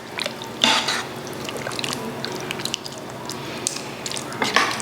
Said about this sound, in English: I'm gonna put the crock pot on low and kind of give it a little bit of a stir here